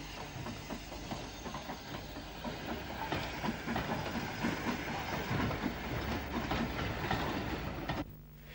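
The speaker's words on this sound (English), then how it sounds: "Our final sequence at Bray shows a J15 arriving at the station." A J15 steam locomotive rolls into Bray station, a steady rumble of wheels and clattering rail joints with hissing steam, loud and close throughout, ending abruptly near the close.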